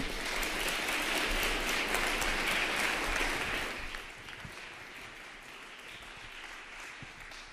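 Conference audience at an Ethereum developer event applauds a sponsor, a broad dense clapping that holds steady for several seconds, then fades to a quieter scattered patter.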